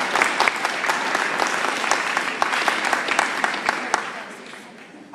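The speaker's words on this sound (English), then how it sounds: "Give yourselves a round of applause." Audience at a TEDxYouth event in Columbus applauding themselves: a steady roar of clapping from a sizeable crowd, with a few sharper claps standing out, gradually tapering toward the end.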